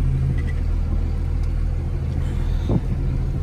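A Cummins 24-valve diesel in a six-speed manual 4x4 pickup idles steadily, a low continuous rumble close by with a brief rise partway through.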